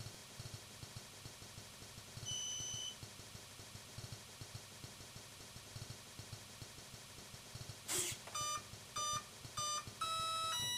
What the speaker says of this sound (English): After a few seconds, you should hear a beep